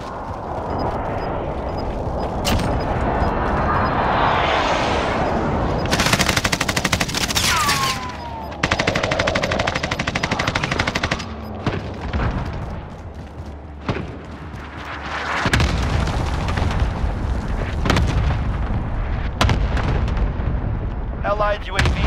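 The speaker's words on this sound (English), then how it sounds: "Allied precision airstrike incoming." Allied precision airstrike in a military shooter video game: repeated heavy explosions and bursts of gunfire over about twenty seconds, loud and chaotic, with brief sharp blasts, a spoken voice and a rising whistle mixed in.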